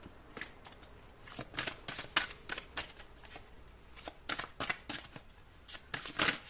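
A deck of tarot cards being shuffled in repeated crisp riffling bursts, close and fairly loud, with brief pauses between flurries and no voices.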